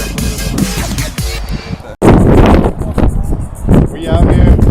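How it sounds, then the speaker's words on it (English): Strong wind from Hurricane Hermine buffets the microphone during an outdoor ride, a loud continuous rushing roar with a brief cut in the middle, a voice speaking underneath. "It's windy as shit because of the hurricane. Hurricane Hermine."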